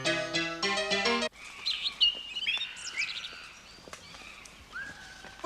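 Racing pigeon chirping in a series of bright, quick tweets and calls, fairly close, following a burst of music and then continuing alone.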